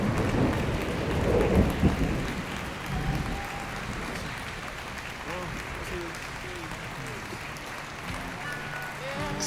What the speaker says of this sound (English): heard the end of a song, and cheers and applause. Then a roll of thunder tolled in the distance